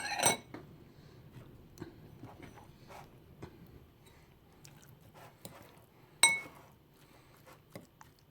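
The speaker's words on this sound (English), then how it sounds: "squirt the salad cream in, get a fork, give that a good mix" A fork mixing salad cream into food in a bowl, with light scraping and sparse clinks against the dish, plus two sharper metallic taps, quiet and close.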